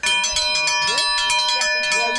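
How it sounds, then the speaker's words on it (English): A lodge's breakfast bell rings in the morning with a sustained, shimmering metallic tone that carries through the whole stretch while a voice talks over it. "one of the employees will ring the breakfast bell"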